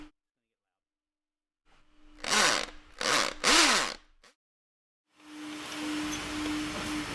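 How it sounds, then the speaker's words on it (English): A power drill bites into the floor in three short bursts with brief pauses, drilling a hole 2 inches deep, then a steady hum of a vacuum follows after a silent gap. "So we're going to drill down."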